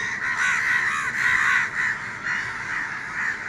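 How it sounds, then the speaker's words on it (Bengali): A crowd of crows gathered around a single crow caws loudly and continuously, their harsh calls overlapping in a raucous chorus with no pauses. "কত কাক ডাকছে দেখুন"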